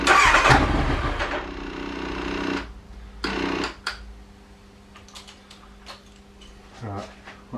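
A Kawasaki ZX9R motorcycle engine cranks over without catching, with a loud, dense burst of churning for about two and a half seconds, then a shorter second crank, followed by quiet with faint clicks.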